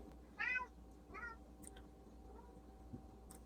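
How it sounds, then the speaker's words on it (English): A cat meows twice in the background late at night, one louder call followed by a softer one, with faint scattered household noises afterward in a quiet room. "my cat Tyrion is making just about as much noise as I am in the background"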